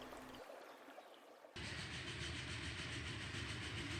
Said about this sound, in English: Nearby tracks and an approaching train.